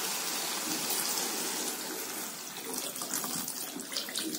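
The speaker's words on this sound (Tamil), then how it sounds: "3 கப்பு தண்ணி ஊற்றணும்." Water pours steadily into a cooking pan in a continuous splashing stream, close by and fairly quiet, with no voices; three cups of water for rava kichadi.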